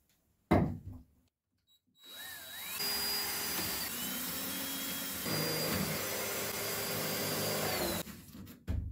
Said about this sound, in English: I'll go ahead and drill this now.